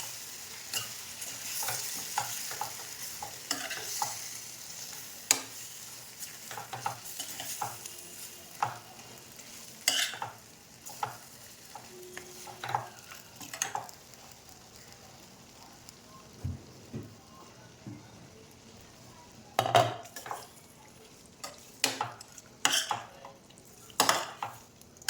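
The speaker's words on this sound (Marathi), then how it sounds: "याला हलवून घेऊन मस्त मिक्स करून घेऊ याला" Chicken sukka is stirred in a pan, a low sizzle running under scattered spatula scrapes and metallic clinks that come in small bursts, louder clusters near the end, with no talking.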